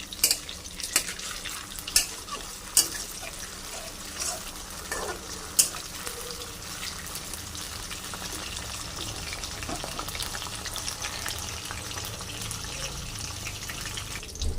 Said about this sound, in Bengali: এবার লাল করে ভেজে নেব